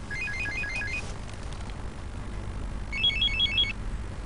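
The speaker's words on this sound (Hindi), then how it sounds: "सुबह सुबह किसका फोन आ गया?" A telephone rings in a morning household scene, two bursts of electronic warbling trills separated by a pause, clear over a low background hum.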